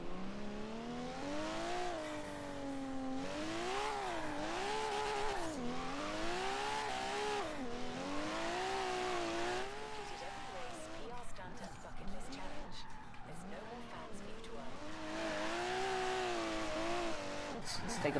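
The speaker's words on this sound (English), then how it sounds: "Why don't we head out and just do some, like, street drifting style stuff?" A 1992 Toyota Supra 2.0 Turbo drifter in Forza Horizon 3 holds a steady loud engine drone that rises and falls with revs through long slides, tire noise mixed in, continuous throughout.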